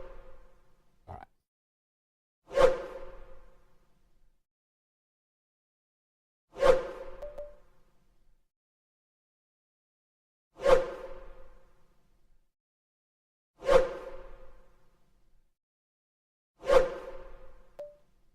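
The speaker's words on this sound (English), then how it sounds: "That sound is the trolls attacking me." Video game trolls attack the player in a series of five sharp whooshing strikes spaced a few seconds apart, each a quick swipe with a short tail, in otherwise near silence.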